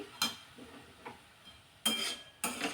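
Radish bhaji being stirred in a pan with a spoon: a few quiet scraping clinks, two sharper scrapes near the end, with a faint sizzle underneath.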